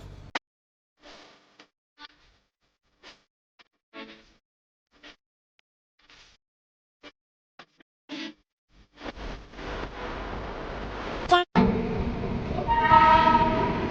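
A train at KSR Bengaluru railway station: scattered clanks and knocks give way to a rising rumble of a train rolling through, with a loud burst near the end and a sustained horn-like tone.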